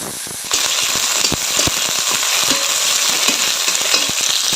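Cashews and raisins frying in oil in a pan, a dense close sizzle broken by sharp crackling pops and stirring knocks, starting abruptly and continuing steadily without speech.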